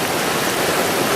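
Flood water rushing through Kasese in Uganda, a dense, steady hiss and roar that fills the whole moment with no voices.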